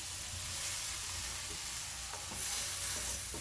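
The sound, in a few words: poha (flattened rice) being added to a pan with spices, sizzling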